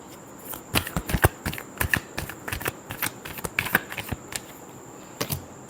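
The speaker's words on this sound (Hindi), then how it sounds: "Last shuffle." Tarot cards being shuffled by hand, a quick irregular run of crisp riffling snaps and flicks, close and fairly quiet, with no talk over it.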